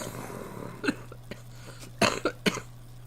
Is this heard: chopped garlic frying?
no